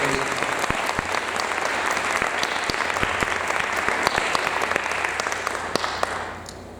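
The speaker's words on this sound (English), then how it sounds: "Please join me now in giving our candidates a round of applause for their participation." An audience at a chamber of commerce meet-the-candidates evening applauds the candidates, dense sustained clapping at close range that swells evenly and then tapers off at the end.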